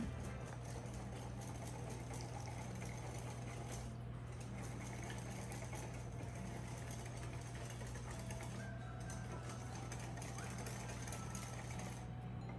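An electric hand mixer whirs steadily as it beats pumpkin spice donut hole batter with vanilla, a constant motor hum running for about twelve seconds with no talk.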